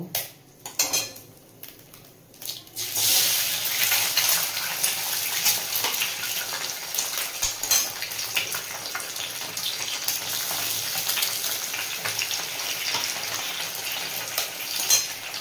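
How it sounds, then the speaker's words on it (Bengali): Eggs hit hot oil in a pan for chowmein and erupt into a loud, sustained crackling sizzle after a few quieter clinks and scrapes of cookware, continuing steadily at close range without talking. "এবার ওই তেলের মধ্যে ডিমটা ভেজে নেব"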